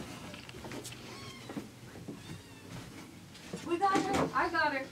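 A kitten meowing indoors, a few faint high cries early on followed by louder, closer mews near the end, with people talking and handling sounds around it.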